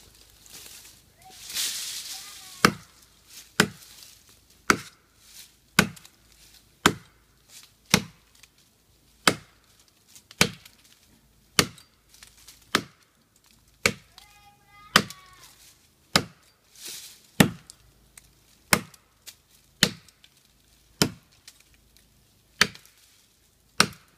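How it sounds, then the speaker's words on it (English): A Rifleman tomahawk chopping into a standing tree, roughly twenty sharp woody thwacks in a steady, evenly spaced rhythm, loud and close, with faint rustling between strikes. "I'll just whack on this tree for a minute, and you can see some chunks fly."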